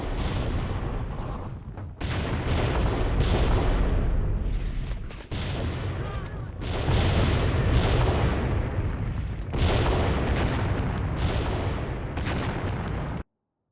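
Artillery indirect fire in the war game Graviteam Tactics, a loud, continuous barrage of heavy booms and crackling blasts that rolls on with several brief pauses, with no talking.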